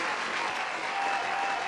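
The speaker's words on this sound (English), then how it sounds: "Let me give you a round of applause for that." A short round of applause, a steady dense wash of clapping at even loudness throughout, with no clear voices.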